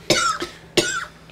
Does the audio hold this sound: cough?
yes